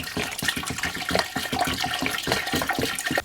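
Water pours steadily and splashes into a simmering pot of natural dye made from ditch flowers, a loud, continuous rushing stream heard close up with no talking.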